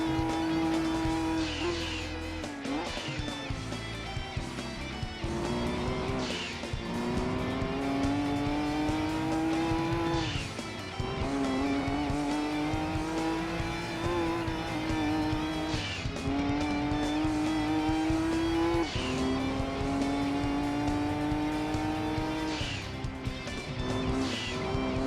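A Nissan R390 road car in Gran Turismo 2 races hard, with a loud continuous engine whine rising and dropping through repeated gear shifts and tire squeals throughout.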